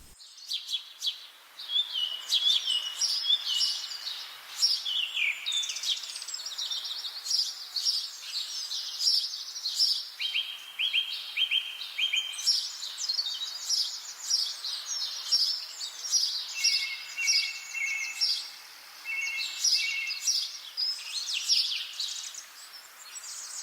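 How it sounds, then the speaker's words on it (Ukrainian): Many small birds chirp and trill continuously in a willow tree in the Khmelnytskyi botanical garden, a busy high-pitched chorus of overlapping songs, with no other sounds. "а в гілі верби співають пташки"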